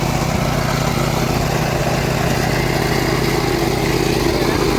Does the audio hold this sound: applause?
no